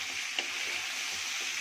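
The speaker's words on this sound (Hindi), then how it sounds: "अब मैं इसमें डाल दूंगी कटा हुआ कद्दू" Chopped pumpkin sizzles steadily in a hot pan after turmeric powder, a soft continuous frying hiss with a faint clink near the start, quiet and close.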